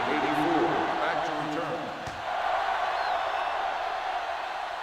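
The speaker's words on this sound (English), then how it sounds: "The crowd in full throat as we get this new season started with the kickoff." A football stadium crowd roars in a broad, steady wash of cheering at the season-opening kickoff of a PFL game, loud and continuous beneath an announcer's commentary.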